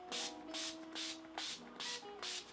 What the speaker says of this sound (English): I'm gonna spray the Urban Decay All Nighter all over.